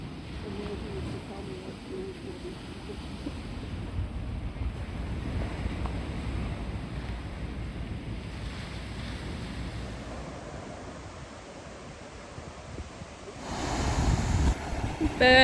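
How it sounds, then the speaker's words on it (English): Waves wash ashore and wind buffets the microphone at the beach at Cowan Cowan on Moreton Island, a steady, rumbling surf under gusty wind, growing louder in a strong gust near the end. "Sitting out in front of camp at the beach at Cowan Cowan."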